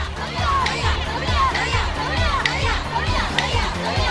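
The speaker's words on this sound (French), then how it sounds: "Il y a des étrangers qui encouragent à grands cris les porteuses." A dense festival crowd at a Japanese shrine procession shouts and cheers loudly and continuously for the women carrying the shrine, with children's voices and chatter mixed into the roar.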